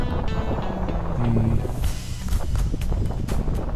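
Steady wind buffets the microphone with a constant rushing roar at a high skywalk in Cebu, gusting slightly, with some faint thumps and rustles underneath.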